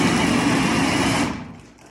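A power drill whirs loudly and steadily at close range during plumbing work, a dense high-pitched motor drone that cuts off and winds down near the end.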